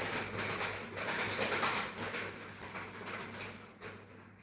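Birds calling outdoors, a steady wash of chirps and chatter in the background with no single call standing out, continuous and moderately loud over the whole stretch.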